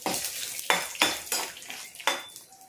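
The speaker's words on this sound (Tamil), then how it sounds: "சும்மா அந்த எண்ணெயில் ஒரு 2 கிண்டு கிண்டிக்கிறேன்." Roasted chana dal is stirred in hot oil in a pan with the stove turned off, giving five or six distinct scraping, clattering strokes of a spoon against the pan in a steady rhythm, close and moderately loud, with no talking.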